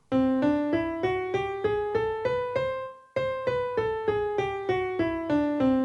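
A melodic scale plays note by note, rising in steady even steps, then after a brief pause descends back down at the same pace, with no voices.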